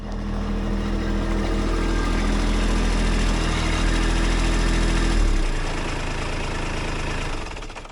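A Kubota B2601 compact tractor engine runs steadily at idle with a low, continuous rumble, loud and close throughout, easing slightly lower near the end, with no talk over it.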